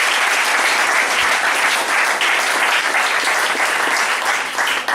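A church congregation at a prophetic worship service applauds, loud, dense and sustained clapping from many hands that carries on evenly for about five seconds with no pause.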